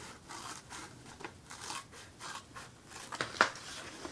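Scissors snipping along a drawn line on paper, a quiet run of soft rhythmic cuts close by, ending with a couple of slightly sharper snips.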